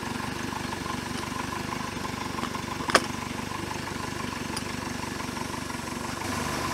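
A 1973 MerCruiser 120 hp engine in a Larson boat idles steadily with a constant low rumble, joined by one brief sharp click near the middle.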